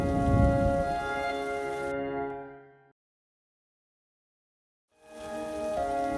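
Steady rain pours down in a close, full hiss that cuts to dead silence for a couple of seconds, then swells back in.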